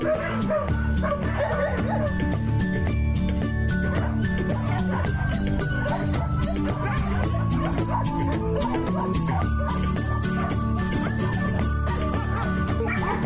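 Dogs at a home kennel bark, yip and whimper continuously and close, many animals overlapping into a dense, loud chorus with a voice briefly mixed in.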